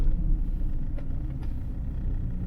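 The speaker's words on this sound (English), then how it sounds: "there's a coach coming along" A coach rolling along a narrow road through a small Cotswold town, a steady low engine and tyre rumble passing at moderate distance with no voices.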